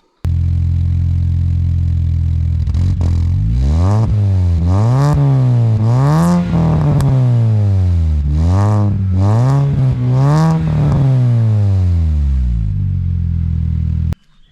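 A Mini Cooper S R53 fitted with a new 2.5-inch stainless straight-through catback exhaust revs up several times from idle, deep and loud close by, each rise and fall distinct before it shuts off.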